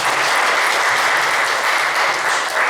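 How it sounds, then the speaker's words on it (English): An audience at a train-the-trainer session applauds a presenter, with loud, continuous, dense clapping from a full room that holds steady from start to finish. "So I would like to have a big round of applause for this person"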